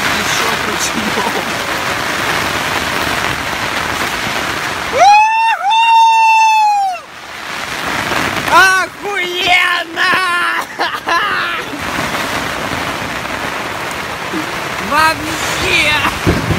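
Heavy rain and gusting wind batter a tent by the sea during a hurricane, a loud constant wash with a whining tone partway through and several sharp knocks; people speak over the storm.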